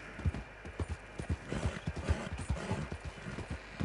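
Horse hooves from a hunting video game clip-clop in a steady trotting rhythm, close and clear, over a low background hum.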